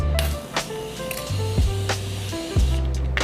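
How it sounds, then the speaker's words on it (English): Short hissing bursts of a fine face mist spray, about five quick spritzes spaced apart over a steady low hum, applied over foundation. "I'm gonna spray my face before I blend."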